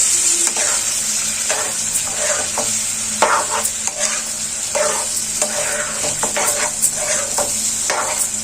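Steady sizzling in a frying pan with a spoon repeatedly scraping and stirring through thick cauliflower masala curry, regular strokes over a constant hiss.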